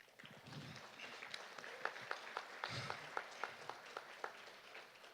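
Applause at an awards event, sparse and quiet at first, with a handful of distinct sharp claps standing out over a soft background of low murmuring.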